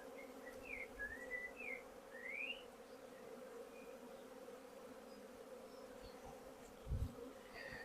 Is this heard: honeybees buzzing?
yes